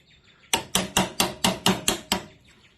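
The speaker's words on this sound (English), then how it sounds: "This one, I'm going to chisel this side and this side till I get it square" A chisel, 38 mm or 18 mm wide, is struck to square a wooden workpiece in a carpentry exercise: eight sharp, close blows at an even, quick rhythm with a faint hum underneath.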